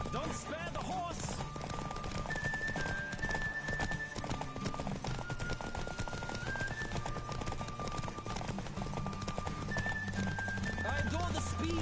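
A horse gallops during a horse race in The Witcher 3 video game, rapid hoofbeats pounding continuously and loudly beneath game music and voices.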